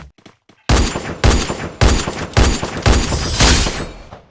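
Loud bursts of rifle fire from an SVD sniper rifle in a mobile shooter game, about six heavy shots in a steady rhythm after a brief quiet start, each with a booming tail.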